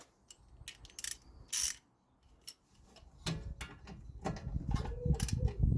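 A 17 mm ratchet undoing brake carrier bolts on a Mazda MX5 NC Mk3, quick bursts of clicking ratchet strokes with pauses, then heavier rattling and clanking of tools close by.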